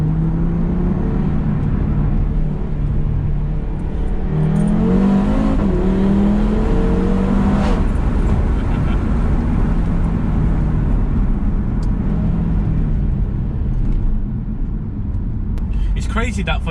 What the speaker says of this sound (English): So this will be a 2nd gear pull.